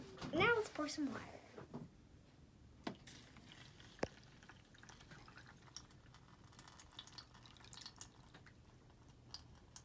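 Water is poured into a soil sample in a fourth-grade soil lab experiment, producing faint, scattered drips and trickles after a brief burst of voice at the start.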